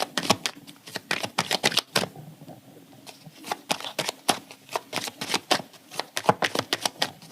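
Tarot cards are shuffled close up in a quiet room, a long run of quick crisp riffling slaps and flicks with a short pause near the middle, no talk over them.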